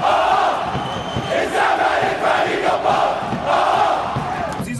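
A stadium crowd at a Zamalek football match roars and chants in loud, sustained waves, dense and echoing across the stands, with a voice briefly heard near the end.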